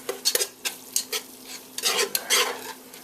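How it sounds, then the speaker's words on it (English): Flour whisked into a pan of bean soup with ham, with a rapid run of close clinking and scraping strokes against the pan in uneven bursts; no voices. "it's kind of difficult to whisk in flour and not let it get so clumpy with all this other stuff in the pan"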